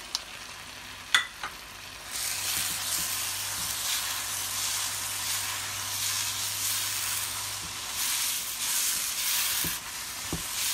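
Semolina halwa with raisins and chopped almonds being stirred in a pan on the stove, a steady soft sizzle and scraping hiss after a couple of sharp utensil knocks at the start.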